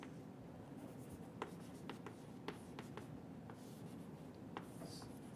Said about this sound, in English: And I'm going to write it like this.